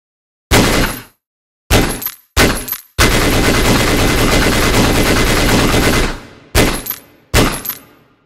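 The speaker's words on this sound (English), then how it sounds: "Test short and long bursts of the gunfire works correctly." A machine gun fires in the Wwise Cube video game: two short bursts, then a long sustained burst of about three seconds, then two more short bursts, loud and close with silence between them.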